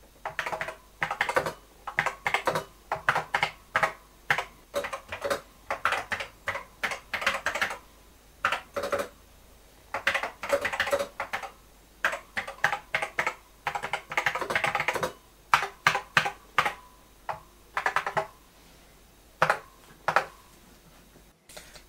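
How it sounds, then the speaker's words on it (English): Typing on an Apple Macintosh 128k keyboard with a 512k upgrade: a close, steady run of crisp key clacks in quick bursts with short pauses between, heard alone with no talk. "so let's just type something in."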